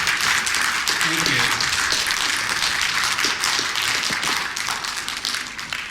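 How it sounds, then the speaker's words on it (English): An audience claps for veterans at a talk, a dense burst of applause that tapers off over several seconds, with a brief spoken word near the end. "I'd like to give them a round of applause."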